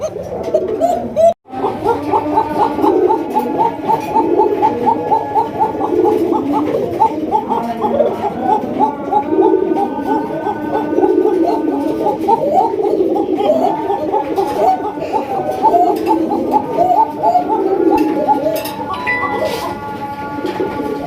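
Golla pigeons coo continuously in a close, throaty burbling chorus that carries on without pause, with faint background noise and a brief break near the start.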